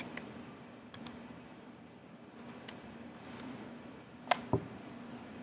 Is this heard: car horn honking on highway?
no